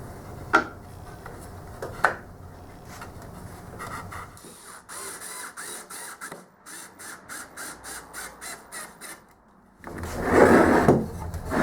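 A wooden middle tray slides in and out of a homemade wooden in/out box, giving a close series of short rhythmic scraping knocks, with a couple of sharp taps before and a louder rubbing slide at the end.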